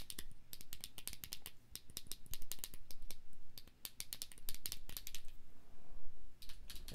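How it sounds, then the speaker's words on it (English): Arcade buttons wired to a Raspberry Pi GPIO music box are clicked in quick, irregular bursts of sharp plastic taps, close up, with a brief pause midway and no talk. "Now we have our buttons and the clicking."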